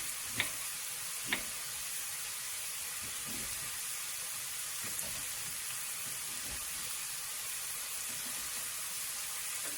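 Sausage browns in a pan with a steady, close sizzle and frying crackle that fills the whole stretch, broken by a couple of sharp utensil taps near the start.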